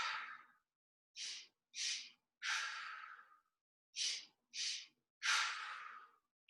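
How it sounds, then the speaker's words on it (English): Seven sharp, breathy exhales during a qigong breathing practice, close and fairly loud, coming in a steady rhythm of short puffs and longer sighs separated by clean silences. "Focus on the exhale."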